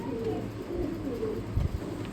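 Syrian Baghdad pigeon, a male bird, cooing in low repeated rolling phrases at close range, with a steady murmur of other birds behind it.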